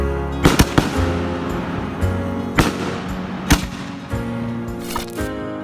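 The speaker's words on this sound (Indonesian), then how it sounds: "Kembang api yang satu ini akan menyebar saat meledak di udara." Glitter fireworks bursting and spreading in the air, with a series of sharp cracking explosions spaced irregularly over a continuous crackling, sizzling background, loud and fairly close.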